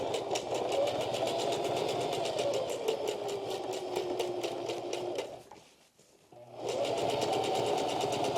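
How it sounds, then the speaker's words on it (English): Sewing machine running a single stitch along awning fabric trim, a steady close mechanical whir with rapid repeating needle clicks that dips briefly to near silence before resuming at full pace. "You're gonna put it in the sewing machine. You just do a single stitch all the way around"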